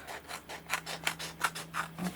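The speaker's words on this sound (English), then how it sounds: "Just use my scissors to go around." Scissors snip around a handmade greeting card, about six quiet, evenly spaced cuts, close and soft with a faint low hum underneath.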